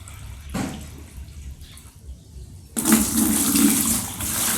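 About 1.2 litres of water poured into a jug for a homemade liquid, starting as a quiet trickle and then turning into a strong, steady gush that fills out the final seconds.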